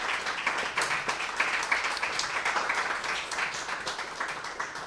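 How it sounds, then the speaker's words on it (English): Steady, dense applause from a live podcast audience for two guests, continuous clapping with no voices over it. "let's give them a round of applause."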